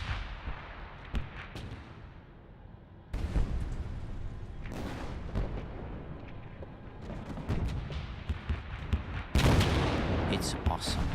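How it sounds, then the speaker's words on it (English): An artillery barrage in battle, heard as repeated heavy booms and dense rumbling blasts that keep building and end in a loud, sustained roar, with no voices. "It's awesome. A terrific barrage."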